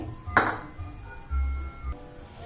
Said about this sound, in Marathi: हे पहा कढई गरम करण्यासाठी ठेवलेली आहे